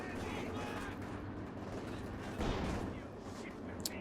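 Gunfire from a Panzer IV tank and a support weapon in the video game Company of Heroes 2, a dense rumble of shots and booms with a heavier blast midway, under ongoing battle noise.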